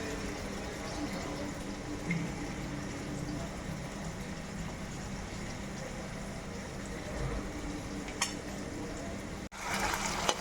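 Chopped vegetables fry in hot oil in a home kitchen, a steady close sizzle that runs throughout, with a brief clatter near the end.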